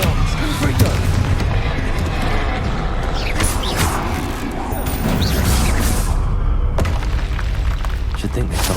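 Booming blasts and rumbling impacts from a Confringo blasting spell in the Hogwarts Legacy video game, loud and sustained with crackling debris and a sharp burst near the end, alongside other game effects.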